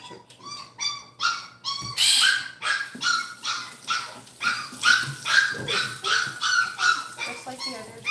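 A puppy yips and barks in quick, high-pitched bursts while being bathed at a kennel, loud and close, with someone talking over much of it.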